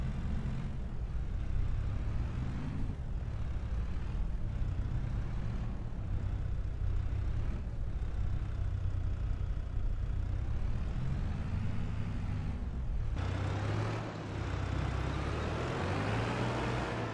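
A tractor engine idles and runs with a steady low drone in Farming Simulator 25, holding a constant hum with small shifts in pitch and a brief dip near the end.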